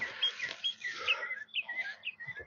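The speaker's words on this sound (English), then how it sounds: "Birds out here singing again?" Birds sing and chirp outdoors near a beehive, a mix of bright, quick calls and trills repeating across the moment at moderate distance, with faint background activity.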